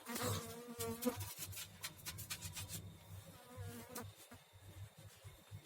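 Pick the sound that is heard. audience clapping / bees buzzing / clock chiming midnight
bees buzzing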